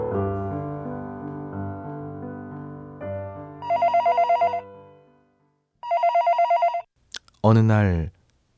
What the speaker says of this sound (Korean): 하숙집으로 다급한 전화가 걸려왔습니다